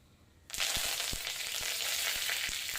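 Curry leaves hit hot oil with popped mustard seeds and burst into a sudden loud sizzle, which holds steadily with a few crackling pops, close by and alone.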